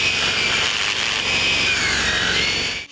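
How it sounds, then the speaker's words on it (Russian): A generator-powered angle grinder cuts through metal road parking posts, a steady loud high-pitched whine sustained for a few seconds close up before cutting off abruptly. "подключают к генератору турбинку"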